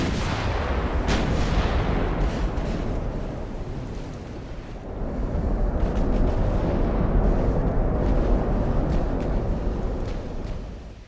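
Battleship guns firing in the naval warfare game Ultimate Admiral: Dreadnoughts, heavy rumbling salvos and booms rolling continuously with sharper cracks scattered throughout and no voices.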